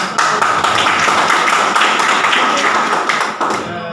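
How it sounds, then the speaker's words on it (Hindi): A crowd at a workers' gathering claps for Raja ji, a dense run of applause that holds steadily for several seconds before tapering slightly near the end. "सबसे पहले ताली राजा जी की बजाइए"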